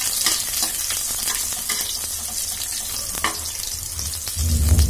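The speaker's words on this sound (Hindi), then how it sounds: "इसको भी हम पहले डालकर भून लेंगे। इसे हम गोल्डन होने तक इसे फ्राई करेंगे।" Onion and bay leaf fry in hot oil until golden for a village-style aloo gobhi, giving a steady, close sizzle with occasional stirring scrapes and a low thump near the end.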